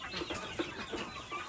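A black and brown chicken clucks in short, soft bursts, several quiet calls spaced irregularly through a faint background, with no talking.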